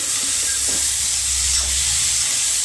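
Spices with coriander roast in a pan for dhaba-style paneer bhurji, making a loud, steady hissing sizzle with steam and a few soft stirring sounds, close up and with no speech.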